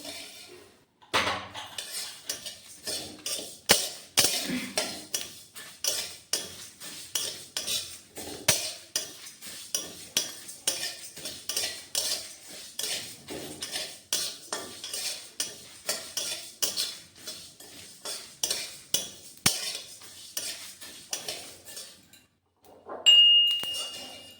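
Cumin and fenugreek seeds are dry-roasted in a pan with no oil, and a spoon scrapes and clinks against the metal in a long run of quick, regular strokes, close and crisp, ending with a brief louder rattle.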